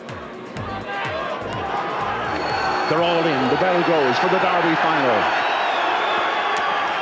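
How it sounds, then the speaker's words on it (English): Large crowd roaring and cheering at the 2003 Paddy Power Irish Greyhound Derby Final at Shelbourne Park, a dense swelling din heard under a race commentator's voice. "Huge crowd, magnificent atmosphere."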